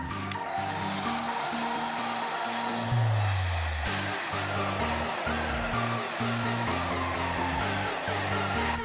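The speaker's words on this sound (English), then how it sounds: "While using the hairdryer, make sure you use it evenly across the edge surface of the headlamp assembly" A hair dryer blows steadily at close range to heat the glue on a car headlamp assembly, a continuous loud whooshing rush with a fluctuating motor hum.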